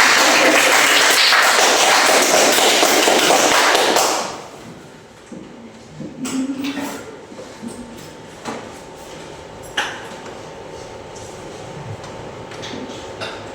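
Classroom of children clapping together, a loud, dense burst of applause for about four seconds that stops abruptly, followed by quieter room noise with scattered knocks and a brief voice.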